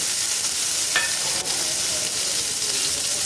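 Shallots and garlic sautéing in a pan for a tamarind curry, a continuous bright sizzle with a brief stirring scrape, close and steady with no talk.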